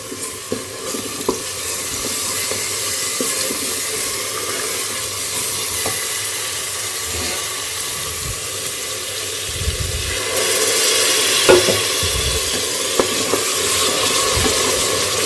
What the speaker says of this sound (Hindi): तो जब तक हमारा मसाला यहाँ पे भुन रहा है